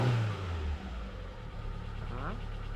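A car engine idles steadily during an alternator check with the headlights on high beam, holding a low, even hum with a brief rev near the start.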